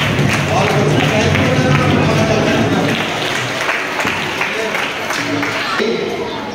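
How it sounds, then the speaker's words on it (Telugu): Audience applause at a rangoli contest prize ceremony, a dense, steady wash of many hands clapping that holds loud and continuous throughout, easing slightly toward the end. "కొంచెం గట్టిగా క్లాప్స్"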